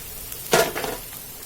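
Capsicum pieces tipped into a hot pan for capsicum iguru give one short, sharp sizzle burst that quickly fades to a soft hiss.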